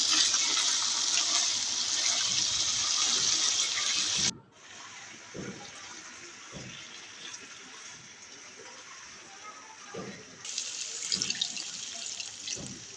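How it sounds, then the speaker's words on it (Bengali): Two cups of water pour into a pan of new winter potatoes fried with spices for aloo dum, making a loud, rushing splash for about four seconds. It then cuts off to a quieter simmer with a few clinks. "কষিয়ে নেওয়া হয়ে গেলে দিয়ে দেব 2 কাপ পানি"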